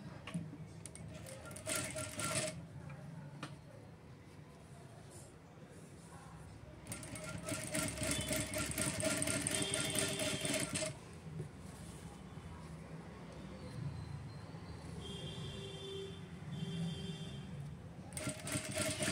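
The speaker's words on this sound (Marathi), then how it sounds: "तर बघू शकता आता आपण ह्याच्यावरून टीप मारून घेऊया।" A sewing machine runs in close, loud bursts while stitching a finishing strip onto a square neckline, its fast mechanical whir starting and stopping between stretches of quieter handling.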